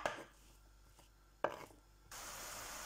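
Young zucchini being sliced on a board: a few isolated knife strokes, each a soft, close thud, followed by a steady background hiss.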